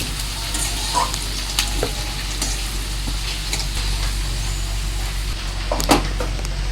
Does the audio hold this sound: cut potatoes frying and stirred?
yes